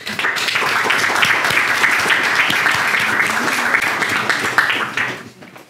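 Audience applause at an Icelandic anniversary gathering of a history institute, a steady dense roar of clapping lasting several seconds and then tapering off at the end.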